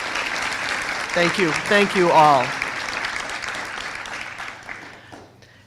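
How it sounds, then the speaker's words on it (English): Graduates at a 2024 commencement ceremony applaud the people who supported them, a broad sustained wash of clapping that fills the hall while a voice speaks briefly over it, then trails off near the end. "I just would like for the grads to do a round of applause for everybody in this room who has supported you"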